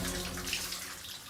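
Shower spraying in an empty bathroom, a steady broadband hiss of running water, moderately close and continuous with no talk.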